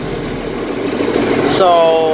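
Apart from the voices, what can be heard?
tractor engine running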